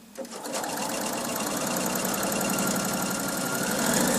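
A sewing machine stitches quilt shapes onto curved arcs for a double wedding ring block, running in a steady, fast, continuous whir close by for several seconds.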